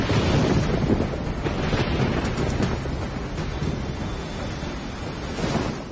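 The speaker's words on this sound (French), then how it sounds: "Un tsunami balaie sans fin la planète." Stormy ocean surf crashing continuously under strong gusting wind, a loud, dense roar of waves and buffeting air that persists without pause.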